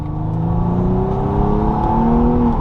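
A Nissan Maxima engine revs in a loud, steady, close drone whose pitch climbs slowly and smoothly, with no voices over it.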